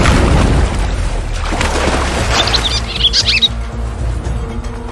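Birds calling and squawking above a river where African tigerfish hunt them, brief bright chirps rising over a loud, rumbling wash of water and wind, with a deep boom near the start.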